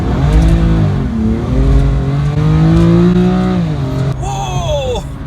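A brand-new 2019 BMW M2 Competition accelerating hard close by, its engine note climbing steadily through the gears, then a brief whining shift near the end.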